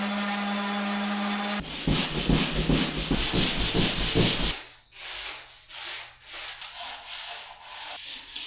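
Drywall compound is ground off bedroom walls inside an abandoned bank with a heavy sander attached to a vacuum, a loud abrasive rasping over a steady motor whine that starts after a short hum, then fades into intermittent scraping strokes.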